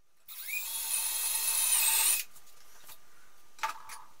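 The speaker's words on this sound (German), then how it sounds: "man nennt diese Bohrer für die Tischbohrmaschine Zapfenschneider" A plug cutter on a benchtop drill press bores into a wooden workbench frame part, a loud steady high whine for about two seconds before winding down, followed by a short knock.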